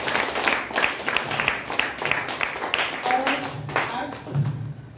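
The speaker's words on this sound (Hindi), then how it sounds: "तो आप सबके लिए एक बार जोरदार ताली।" Audience at a presentation session breaking into applause, uneven bursts of clapping that rise and fall across the stretch, with a voice speaking over it.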